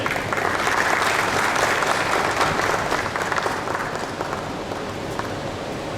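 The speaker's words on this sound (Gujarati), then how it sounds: "એમને આપણે તાળીના ગણગડાટથી એમનું સ્વાગત કરીએ" Steady, dense applause from a large lecture audience welcoming a guest, clapping continuously at full strength and easing slightly toward the end.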